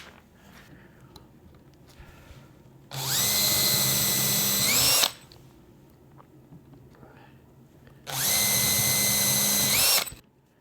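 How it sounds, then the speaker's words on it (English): A power drill boring a small hole in wood for a curved dovetail drawer, heard as two loud whining bursts of about two seconds each, separated by a quiet pause with faint background sounds. "I'm gonna drill me a little hole."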